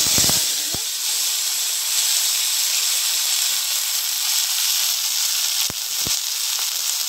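Dry red chilies and whole mustard seeds frying in very hot oil in a heated pan: a loud, steady, broadband sizzle and hiss throughout, with a few sharp pops and crackles near the start and again toward the end.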